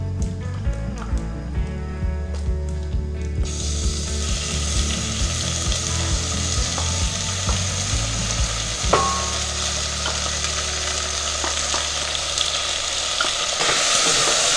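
Beef curry with curry paste being stirred in a pot, a continuous loud sizzle with scraping spoon strokes against the pot and an occasional sharp knock, close and without speech.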